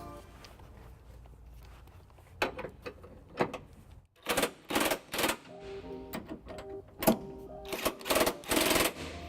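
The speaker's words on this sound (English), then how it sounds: "with the electric impact, I'll be using a 5-inch extension and a 3/4 socket to snug up the remaining bolts" An electric impact wrench with an extension and socket snugs up trailer hitch bolts on a 2001 Pontiac Aztek. It fires in several loud, rattling hammering bursts against a background of quieter shop noise.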